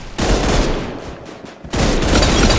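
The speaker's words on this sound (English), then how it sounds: "Triple burst G11." Heavy, continuous gunfire from a G11 rifle in triple-burst mode in a shooter game, loud and close, with a brief dip in intensity midway before the firing surges back just as strong.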